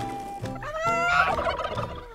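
A turkey gives a single rapid gobble, close and fairly loud, a burbling call lasting about two seconds.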